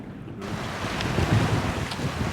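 Strong wind of about twenty knots buffets the microphone aboard a heeling sailboat close-hauled off Cowes on the Isle of Wight, a steady loud rush mixed with water noise and no talking.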